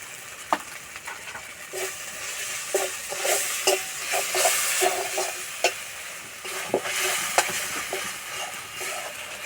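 Spice paste fried and stirred in a pan for a masala bori dish, a continuous sizzle broken by repeated scraping and clacking strokes of the spoon against the pan, close and fairly loud.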